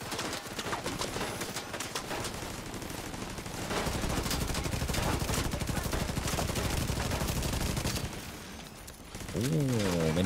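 Rapid sustained gunfire from a deployed automatic turret in Tom Clancy's The Division 2, loud continuous bursts rattling on with little pause.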